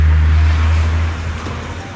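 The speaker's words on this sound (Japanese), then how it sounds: "うるさいな車が。" A car passes on a dark road at night, a loud low rumble close by that slowly fades away.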